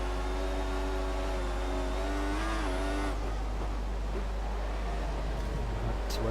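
A Formula 1 race car engine in the F1 2014 video game, racing at the Brazil round, screams at high revs and climbs in pitch before abruptly cutting off, followed by softer engine and tire noise, loud and continuous.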